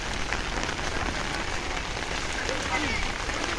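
Heavy rain pours steadily onto flooded ground at an old airport site, a dense, unbroken hiss of drops close by throughout.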